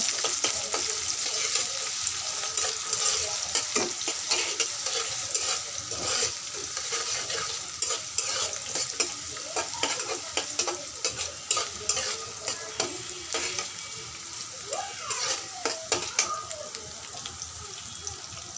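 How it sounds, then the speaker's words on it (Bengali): Onion and green chili fry in a pan with a constant sizzle, while frequent spatula stirs and scrapes add an uneven rhythm of soft knocks throughout. "পেঁয়াজ আর কাঁচা মরিচটা ভালোভাবে একটু ভেজে নিব।"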